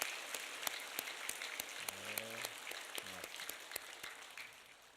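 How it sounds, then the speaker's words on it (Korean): A church congregation claps for the choir, a faint spread-out patter with a few sharper claps, while a voice briefly cuts in partway through. "속에서 우러나오는 박수로 한 번 더 격려하겠습니다"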